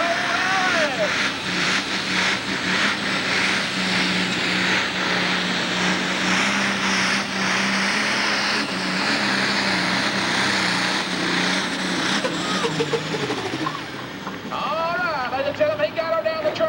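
A super stock pulling tractor with 500-plus horsepower at a 1995 Woodbury, Tennessee pull roars loudly and steadily as its revs climb and hold, then the engine note shifts near the end, while an announcer talks over it.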